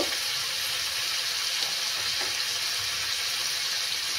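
Ground spice masala of coriander, cumin and turmeric powders fries in a pan for a Bengali prawn curry, giving a steady, even sizzle and hiss with no voices.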